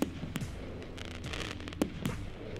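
An 18-shot firework cake sold in German supermarkets fires a few sharp, loud bursts with crackling tails spaced irregularly over a couple of seconds.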